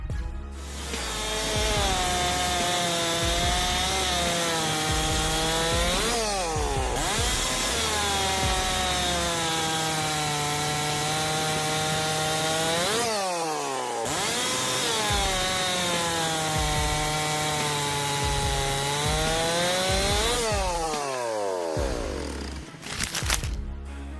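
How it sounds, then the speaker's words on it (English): A STIHL MS661 CM Magnum chainsaw cuts wood in forestry work. The engine screams loudly and steadily through three long cuts, and its pitch sags under load and then revs back up between them. "MS661 CM Magnum. This beast packs some serious power for cutting wood."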